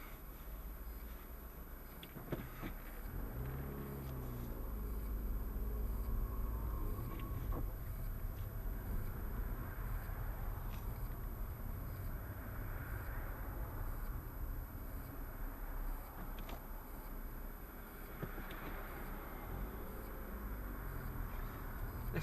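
Car driving, captured from inside by a FalconZero F170HD+ GPS dash cam: a steady, loud low road and engine rumble with wind noise throughout, a few faint clicks, no talk.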